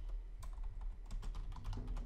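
Rapid computer keyboard typing as a letter is written during Minecraft play, close and crisp, with irregular clusters of keystrokes and no talking.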